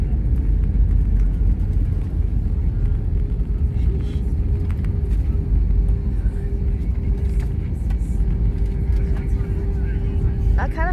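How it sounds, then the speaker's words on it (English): Jetstar Airbus A320-200 cabin after landing, a steady heavy low rumble of reverse thrust filling the interior, loud and continuous with a faint tonal whine over it. "I'm gonna activate reverse thrust soon"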